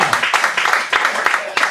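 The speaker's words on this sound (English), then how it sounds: "One person clapping." A lone audience member at a comedy show claps, sharp separate hand strikes in an irregular beat, close and fairly loud, with a faint room wash behind.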